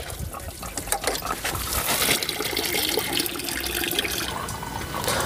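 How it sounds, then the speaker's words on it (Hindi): Coolant gushes out of the radiator of a Tata Vista car once the pressure valve is opened, a steady loud splashing pour that runs throughout. "प्रेशर वाल्व खोलते ही उसमें से कूलेंट निकलने लगेगा स्पीड के साथ"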